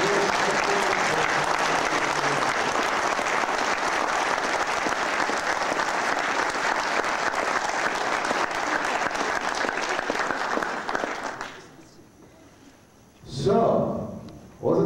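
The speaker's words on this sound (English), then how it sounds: "one more time, a big round of applause" A big round of audience applause at a lifetime achievement award event, loud sustained clapping that runs for about eleven seconds, then fades out and gives way to someone speaking.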